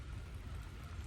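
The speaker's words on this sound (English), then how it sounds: "I think it just started raining again." Rain beginning to fall on a quiet, empty park road, a steady soft hiss of drops with low rumbling texture, close and even throughout with no voices.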